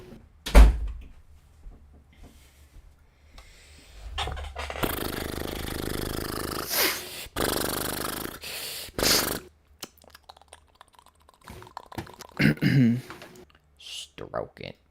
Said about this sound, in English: The wind opened my door.